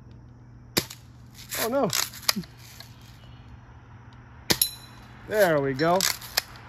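Daisy BB gun shots hitting targets, a few sharp cracks spaced seconds apart with short metallic ringing after some hits, close and crisp, while someone talks briefly between shots.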